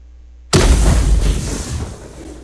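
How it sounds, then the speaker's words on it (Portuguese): Missile explosion sound effect in a pygame Battleship game: silence, then a single loud, deep boom bursts in and rumbles, fading over about two seconds. "Então o som da explosão tá acontecendo"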